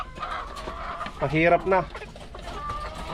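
Chickens clucking in a coop, a few short harmonic calls rising clearly around the middle, close by, over a steady farmyard background, with a person talking briefly.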